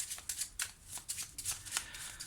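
Tarot cards shuffled by hand for a reading, a quiet, close series of quick riffling bursts in an irregular rhythm, with no talk during the shuffling.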